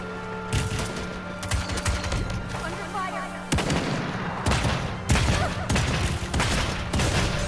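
Rapid bursts of gunfire in the Realm Royale battle game, repeated volleys with sharp cracks at close-to-mid range, layered over game ambience with a voice talking at times.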